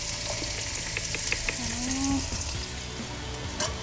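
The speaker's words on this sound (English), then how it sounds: "So I'm gonna cook our onions." Onions frying in a little oil in a pan for fried rice give a steady, close sizzle throughout, with a brief tonal squeak partway through.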